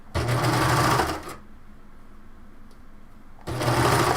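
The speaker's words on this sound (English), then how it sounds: "I'm going to go ahead and serge all those layers together" Serger (overlock machine) stitching through several layers of fabric, a loud steady mechanical whir in two bursts of about a second each, separated by a quiet pause.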